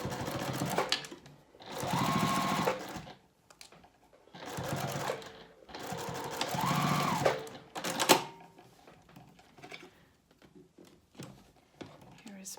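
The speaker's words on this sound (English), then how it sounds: "use 1/8 inch seam allowance to stitch this little elastic fold over and backstitch at the beginning and end" Sewing machine stitching a folded-over elastic onto a fabric face mask with a short seam and backstitching, running in several bursts of a couple of seconds each, separated by brief pauses and small handling noises.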